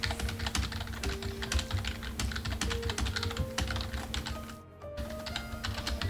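Rapid, steady clatter of typing on a computer keyboard during a Final Fantasy XIV stream, close and fairly loud, with game music and tones running underneath and a brief dip near the end.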